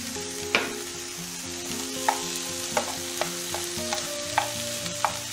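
Onions sizzling in a pan with intermittent stirring scrapes, a continuous frying hiss punctuated by several sharp clacks of a utensil against the pan; no voices.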